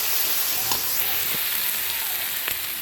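Kashmiri chili powder, chicken masala, ginger and garlic fry in hot oil with a steady, dense sizzle and a few faint stirring clicks.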